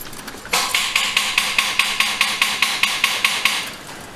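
A rapid, steady series of sharp metallic clicks from a Chevrolet Impala's starter failing to start the engine, about four per second, repeating close by with no other sound.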